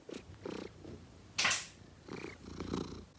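A cat purring up close in a quiet room during a Swedish winter, a soft low rumble in short bursts with one brief louder rush partway through.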